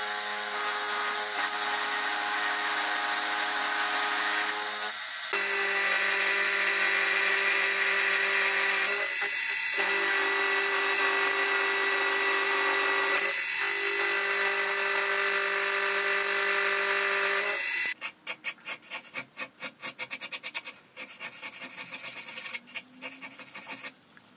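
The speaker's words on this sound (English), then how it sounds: "I'm going to machine a channel underneath it, which is slightly smaller than the step down on the base." A milling machine cuts a channel into the underside of a steel toolmaker's vise part, giving a steady loud whining grind with brief pauses between passes, ending in rough, irregular scraping.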